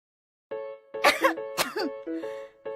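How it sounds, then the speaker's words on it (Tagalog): Two loud, rough coughs close by, one after the other, over a steady background tone. "Ano ba naman tong ubo na to?"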